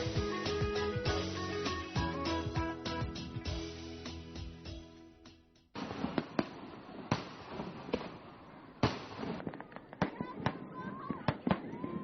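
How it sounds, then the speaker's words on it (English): Fireworks pop and crackle in a rapid series of sharp bangs over the Lancang River at night, first under festive music, then as scattered louder bursts echoing in the open air. "With fireworks lighting up the sky in a zillion different colors"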